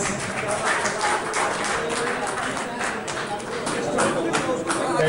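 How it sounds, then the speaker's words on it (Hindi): Audience applause at a ceremony in Mithila, Bihar, a steady, dense wash of many hands clapping that holds throughout with no pauses, with voices faintly mixed in. "तालियां रुकनी नहीं चाहिए, बस।"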